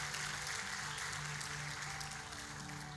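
Faint, sustained applause from a church congregation during a sermon, a continuous wash of clapping heard from a distance with a low hum underneath.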